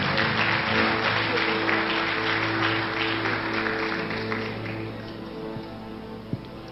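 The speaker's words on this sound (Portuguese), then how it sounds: "aplaudindo a Jesus, porque Ele é bom." A church congregation applauds together in a steady, dense wash of clapping that fills the room, gradually thinning and easing off toward the end, with a sharp isolated knock near the close.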